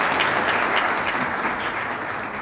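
An audience at a school gathering claps together to welcome MLA Uday, a dense and steady burst of applause that stays loud for the whole stretch, with no voices over it.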